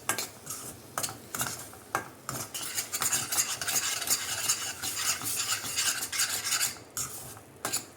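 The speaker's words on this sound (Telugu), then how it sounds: "మొత్తం కూడా దగ్గర పడే వరకు ఈ విధంగా కలుపుకోవాలన్నమాట." Mango and coconut laddu mixture stirred in a pan, a continuous scraping rasp of spoon on metal with rhythmic strokes, close and steady, no voices.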